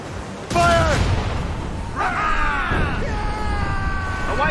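Ship cannons fire in Assassin's Creed Rogue as loud booming blasts with crackling bursts, mixed with shouted voices and screams of battle.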